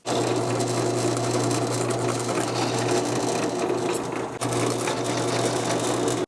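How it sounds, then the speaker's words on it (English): A steady, close-up mechanical drone of a brad point bit drilling through wood, continuous with a brief dip near the end, no talking. "we're going to drill the rest of the way through the hole"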